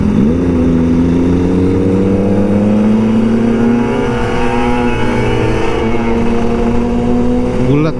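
A big motorcycle engine revs loudly and close by while riding alongside a Kawasaki Ninja RR 150, with a deep, round exhaust drone rising and falling in pitch throughout and voices mixed in underneath.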